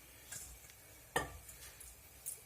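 Leeks and wild asparagus frying in ham fat in a pan, a quiet sizzle under a few light stirring scrapes and utensil clicks, one sharper clack in the middle; no one talks.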